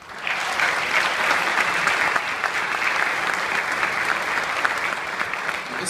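Sustained applause from an audience at a mayor's oath of office ceremony, steady and fairly loud throughout, with dense overlapping claps and no clear talk.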